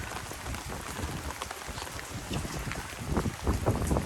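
Rain falls on a wet night among thriving plants, a continuous hiss of drops with denser, louder patter near the end, heard up close and alone.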